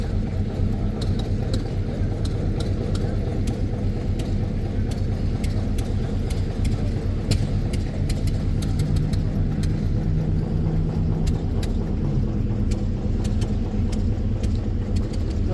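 A 1929 car's old engine runs at an outdoor car show, giving a steady, loud rumble that holds without a break for the whole stretch.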